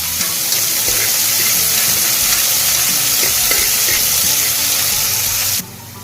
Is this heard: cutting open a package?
no